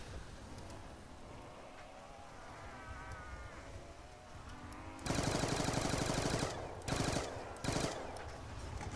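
AK-47 gunfire in a video game erupts as rapid automatic bursts halfway through, loud and dense, with a couple of shorter bursts following after quieter, rain-like background noise.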